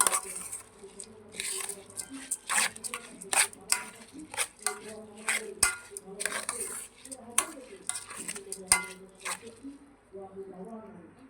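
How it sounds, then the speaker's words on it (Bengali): Ingredients for khichuri being stirred and mixed in a pot with a utensil, giving repeated clinks, scrapes and soft squishy knocks in an irregular rhythm, close by, with brief quiet gaps. "এরকম করে নেড়ে চেড়ে সবগুলো উপকরণ মিক্স করে দিচ্ছি"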